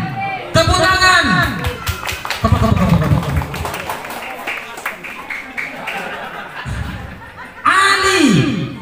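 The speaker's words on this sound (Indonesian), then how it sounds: "tepuk tangan" People at a Maulid gathering in a mosque clap hands in short bursts amid loud voices and laughter, with talking and chatter filling the gaps between the claps.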